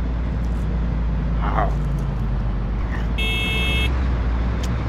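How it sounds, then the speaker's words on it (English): A truck horn in Euro Truck Simulator gives one short, bright honk over a steady engine drone and road rumble. "stop honking at me"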